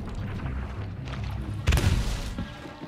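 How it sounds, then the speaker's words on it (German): Ship cannon fire in the pirate game Sea of Thieves, with a heavy booming impact landing over ongoing battle noise and background chatter, loud and close. "Wir werden echt niedergeschossen. Ja, die sind auf dem Schuss, auf dem Kanonturm."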